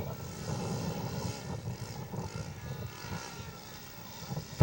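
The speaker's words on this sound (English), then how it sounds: "Larry Shepard is rolling for his last takeoff of the weekend" A radio-controlled scale model airplane's engine drones through flight at a scale aircraft contest, a fairly distant, wavering buzz that rises and fades as the plane passes, with no talking.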